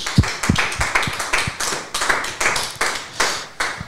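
A studio audience at a French televised discussion programme applauds, a steady run of close, even claps repeating roughly twice per second for several seconds.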